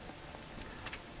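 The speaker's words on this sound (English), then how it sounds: "it is raining, but that is fine" Rain falls in the video game Mr Prepper, a faint, steady hiss with soft scattered drops and no voices.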